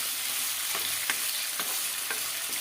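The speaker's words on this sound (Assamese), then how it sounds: "এনেকৈ লৰাই ভাজি থাকিব লাগিব।" Duck meat fries and sizzles in a pan with oil while being stirred, a steady hiss broken by several soft scraping stir strokes at a regular pace, close and moderately loud, with no talking.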